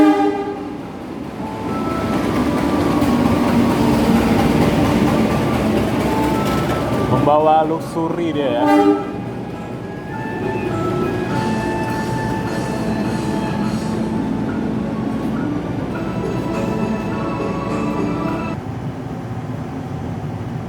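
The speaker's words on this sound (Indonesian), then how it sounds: "Kereta api Manahan yang akan menuju ke stasiun Solo Balapan." The Manahan passenger train bound for Solo Balapan station rumbles close by with a steady roar, a squealing brake or horn passage midway, and someone speaking over it.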